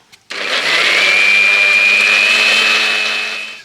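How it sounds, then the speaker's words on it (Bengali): A mixer grinder whirs loudly at a steady pitch as it blends ripe mango with a little water into a smooth paste, starting abruptly and running continuously before winding down. "এবার ঢাকা দিয়ে আমি মিক্সিতে ঘুরিয়ে পেস্ট করে নেব"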